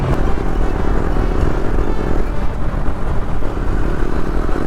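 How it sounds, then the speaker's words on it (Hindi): A KTM Duke 250 BS6 motorcycle with a noisy drive chain accelerates, making a loud continuous engine roar and whirring rattle close to the rider, with no talking. "अभी तो चेन जो है ना भाई इतना आवाज़ करता है जब खींचता"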